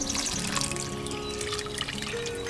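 A potted lemon tree in a spring garden in Cookeville, Tennessee, gets a thorough watering into dry soil, with a steady, close trickling pour of water running throughout.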